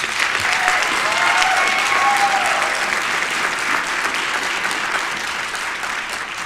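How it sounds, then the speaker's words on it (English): Sustained applause from a crowd at a university commencement ceremony, steady clapping throughout that tapers slightly toward the end. "Let's give her another round of applause."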